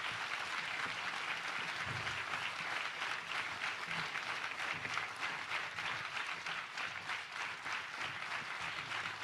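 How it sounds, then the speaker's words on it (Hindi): A congregation at a Christian crusade prayer meeting in Pune applauding, a dense steady wash of many hands clapping for several seconds, moderately distant in a large space, with no talk over it. "जोर से ताली बजाएंगे।"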